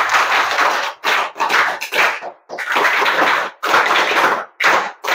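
Schoolchildren at a government gurukula school in Mandya district applaud loudly, dense clapping in several strong bursts with short gaps, close and filling the room, no voices.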